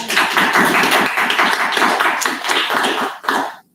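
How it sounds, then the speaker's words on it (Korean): Dense, steady applause from an audience at a youth policy proposal contest, many hands clapping at once for several seconds before fading out abruptly. "박수로 맞이해 주십시오."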